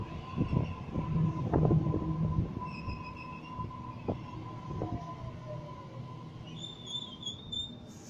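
A Sydney suburban train departs a station toward Richmond, with faint rail rumble, squeals and a steady tone at moderate distance, plus brief high chimes or beeps near the end.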